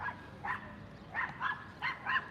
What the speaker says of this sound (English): just a really snappy little dog over there